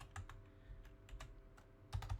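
Keys tapped on a computer keyboard while jotting a quick note, a few soft irregular clicks close by, fairly quiet over a low room hum, with a small burst of faster taps at the end.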